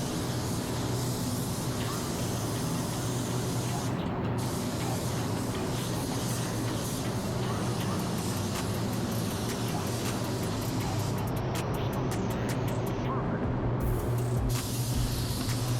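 A spray gun lays a wet coat of car paint, making a continuous close, broadband hiss that stays steady throughout with only slight breaks in the higher tones.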